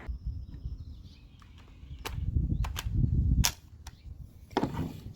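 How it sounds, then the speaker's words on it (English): Gas-powered T4E TR68 HDR68 airsoft gun with a 1mm drilled restrictor, firing a series of sharp pops close by to empty the remaining gas from the airline, irregularly spaced over a hissy, rumbling background. "I'm going to shoot the rest of the pressure out of the airline, whatever's left in that airline."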